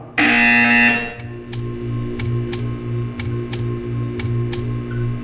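A loud, harsh buzzer in the Portal 2 video game blares for about a second, then gives way to a steady electronic hum with regular clicking ticks and a pulsing low drone.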